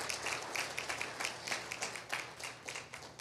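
A church congregation claps for the Lord in dense, continuous applause, heard fairly quietly throughout, with scattered sharper claps standing out and no talk.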